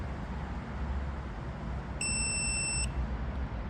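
A digital torque wrench sounds a steady high electronic beep once for under a second over a low background rumble, with no voices.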